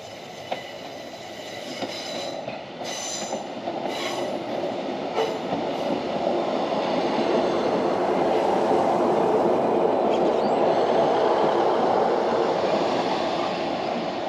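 A GWR Class 150 diesel multiple unit draws into Par station in Cornwall on a local service from Newquay, its steady rumble and rail noise building and holding loud and close throughout, with faint wheel squeal.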